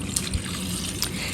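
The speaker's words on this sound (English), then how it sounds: "now I am ready to pour this delicious lemonade" Green guava lemonade is poured into a pitcher packed with ice, giving a soft, close trickle with a couple of brief clinks.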